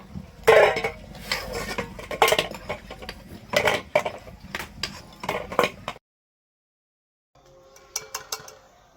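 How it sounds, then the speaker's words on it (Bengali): A metal pot of boiled duck eggs being handled and lifted off a stove, producing repeated clanks and scraping clinks of metal for several seconds, then a silent pause and a few more faint clinks. "এখন ডিম সিদ্ধ হয়ে গেছে এবার নামিয়ে নেব"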